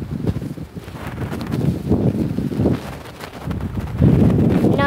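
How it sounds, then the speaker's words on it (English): Gusty wind buffets the microphone outdoors during a bike ride in Mercer County, Pennsylvania, coming as uneven low rumbling surges that swell and fade with no talk. "it's windy out"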